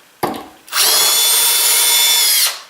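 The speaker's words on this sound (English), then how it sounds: "these screws that I'm using aren't steel, so I'm pre-drilling all these" A power drill pre-drilling screw holes spins up briefly, then runs at a steady high whine for nearly two seconds before winding down, close and loud.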